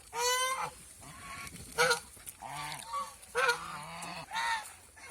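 Domestic geese on a goose farm in Mohanganj, Netrokona, honk loudly and close by in several sharp, nasal bursts with short pauses between them. No voices are heard.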